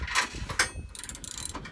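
Ratchet tightening trailer hitch bolts on a 2016 third-generation Toyota Tacoma, close rapid metallic clicking strokes in short bursts, no talking.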